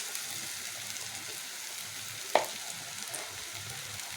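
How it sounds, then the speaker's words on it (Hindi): Pakoras frying in hot oil, dropped in by spoon, giving a soft, even sizzle throughout with one brief clink partway through and no talking. "ऑयल गर्म हो गया, मैं पकौड़े ऐड करने लगी हूँ 1 चम्मच की मदद से"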